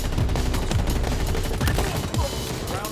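Rapid bursts of gunfire fill a Halo Infinite capture-the-flag match, with dense overlapping shots and rattling automatic fire running continuously and loudly throughout.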